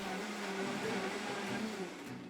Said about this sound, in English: I might start blending this up right now just because I don't think it's all gonna fit